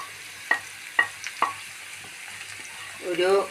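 Onions softened in a pan are stirred with turmeric and coriander powder for an egg thoran, giving a few soft scraping strokes over a faint sizzle, then a louder rattling scrape near the end.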